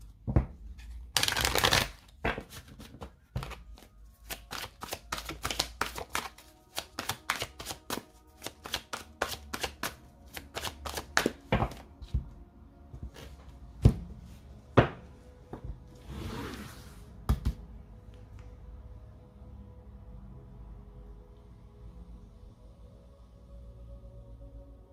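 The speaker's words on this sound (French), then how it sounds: "Allez, on va poser les cartes de votre autre." Tarot cards shuffled and laid out in a love reading, with a long run of quick crisp riffles and flicks, then a few separate snaps and slaps as cards are placed, fading to near silence.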